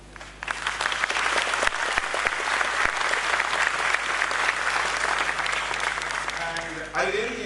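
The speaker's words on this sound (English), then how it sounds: "the sound of your applause will tell how you have enjoyed this panel" A large audience applauds after a panel discussion with dense, sustained clapping that stays loud throughout and fades near the end as a voice begins to speak.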